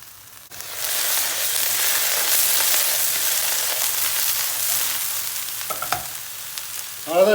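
Loud, steady sizzling of eggplant frying in hot oil, a continuous crackling hiss with a few clinks of a utensil near the end.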